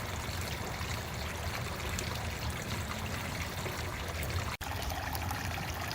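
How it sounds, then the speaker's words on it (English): Water splashes and trickles steadily down an older, weathered gray and brown tiered garden fountain, a soft continuous pouring sound with no voices. "Here's one of our older fountains. Another tiered fountain."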